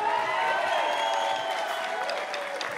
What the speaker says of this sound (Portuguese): Uma salva de palmas aqui à Jéssica, por favor, vai.